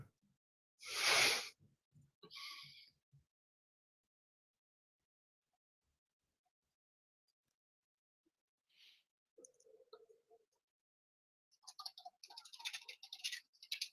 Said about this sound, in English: that keyboard is loud as all hell